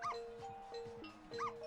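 A small cartoon dog in the Ghost Trick video game yaps in a few short, bright barks and whimpering yips, backed by a steady electronic game tone and soft music.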